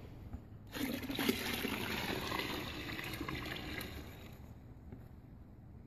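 A gallon of termiticide solution pours out in a steady continuous splashing stream, starting abruptly and running for several seconds at close range before tapering off.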